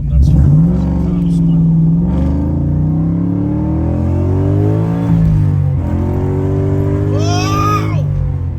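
A 1992 Ford Mustang LX with a swapped engine revving hard at half throttle, loud close rising and falling engine roar through several pulls, with an excited voice cutting in near the end.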